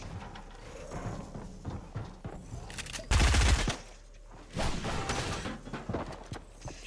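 Heavy assault rifle firing in a video game: a loud, dense burst of rapid shots around the middle, with another sustained spray of gunfire afterward over a busy background of game effects.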